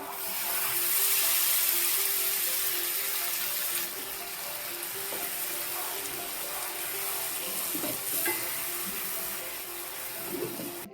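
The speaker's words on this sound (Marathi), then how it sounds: "हे गरम करून घेतलेलं पाणी घालूया" Hot water is poured into an egg masala sizzling in oil in a pan, giving a steady rushing pour with bubbling hiss that eases slightly after a few seconds, fairly faint, with no talking.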